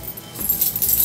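A handful of coins tumble and jingle from a folding wallet, a brief, close metallic clinking that grows busier after a short pause.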